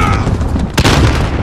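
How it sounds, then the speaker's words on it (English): In Call of Duty Modern Warfare gameplay, a grenade explosion lands as one sharp, loud boom partway through. Dense battle noise and gunfire surround it. "Grenade out!"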